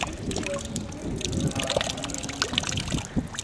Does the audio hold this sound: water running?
yes